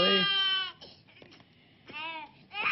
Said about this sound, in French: Pleure pas. Faut pas pleurer.